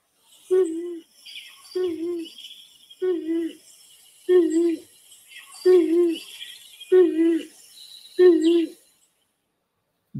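Native pigeon giving a deep, throaty call, repeated about seven times in an even rhythm of low cooing phrases separated by short pauses, heard clearly against quiet background with faint insect chirps.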